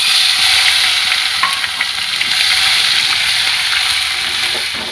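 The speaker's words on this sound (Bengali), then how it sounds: "ফোড়নে দিয়ে দেবো গোটা জিরে আর দেবো তেজপাতা। এবারে দিয়ে দেবো কুচিয়ে রাখা টমেটো।" Chopped tomato hits hot oil tempered with whole cumin and bay leaf, a loud, bright sizzle right up close that slowly settles while a spoon stirs now and then.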